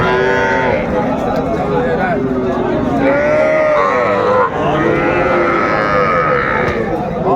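Young bulls and heifer calves at Raniganj cattle market in Dinajpur, lowing repeatedly and loudly close by over a busy market din with people talking.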